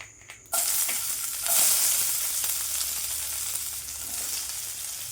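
Shallots and potatoes sizzle and fry in a hot pan, a steady bright crackle that jumps louder as they go in, with faint stirring scrapes and no voices.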